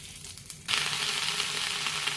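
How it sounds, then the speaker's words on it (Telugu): Green chillies and dry red chillies hit hot oil in a pan, a quiet rustle giving way to a sudden loud, steady sizzle that keeps crackling close by. "ఆయిల్లో పచ్చిమిర్చి, ఎండుమిర్చి దోరగా వేయించుకోవాలి"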